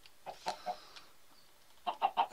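Chickens in a Minecraft-style video game give short clucks in two small clusters separated by a quiet gap, fairly soft and close, with no talking.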